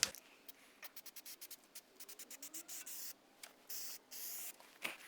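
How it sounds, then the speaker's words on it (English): Short bursts of spray sealant hiss along a weld seam on a Ram 1500 truck, coming as a quick series of close, irregular puffs, some longer, with quiet gaps between them. "we're going to go ahead and spray the second coat"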